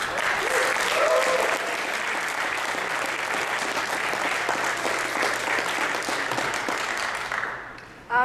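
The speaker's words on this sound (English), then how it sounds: "another huge round of applause for judges, coaches, mentors, and organizers" Sustained audience applause at a Startup Weekend final pitch event, honoring judges, coaches, mentors and organizers; steady dense clapping for about eight seconds, fading at the end.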